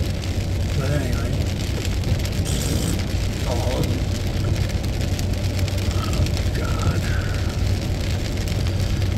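Heavy rain drums steadily on a tent, making a dense, unbroken roar that lasts throughout. A few faint, brief tones rise over the noise, and there is no clear speech.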